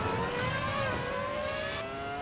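Loud and steady, the Ferrari F2004 Formula 1 engine wails in Assetto Corsa Evo, its pitch slowly rising through a gear with a brief shift midway, ending in a sharp click; nobody speaks.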